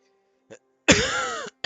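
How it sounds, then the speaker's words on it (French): A single harsh cough or throat-clear rasps out after a brief faint sound, loud and close in otherwise quiet surroundings, during a video game session. "Que je tousse, que je tousse."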